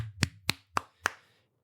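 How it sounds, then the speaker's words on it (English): One person claps alone, four crisp, evenly spaced claps close to the mic, each ringing briefly before fading into quiet. "So I'm applauding you."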